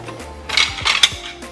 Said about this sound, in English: I'm going to put my spatulas, flipping spatulas first